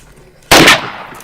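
A can of brake cleaner bursting in a fire, one sharp, loud bang with a short, hissing tail.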